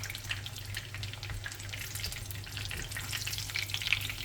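Food sizzles and spits steadily in a small frying pan, a continuous close crackle with a low hum underneath and no talking.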